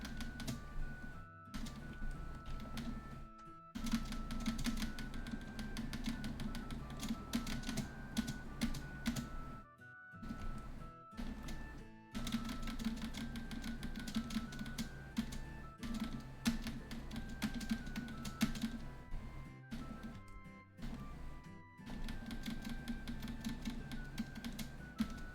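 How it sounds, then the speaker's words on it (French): Fast, steady typing on a computer keyboard, with loud continuous clacking picked up by a sensitive microphone and only brief pauses over about twenty-five seconds. "Imagine juste frapper ton clavier tellement ça frappe fort"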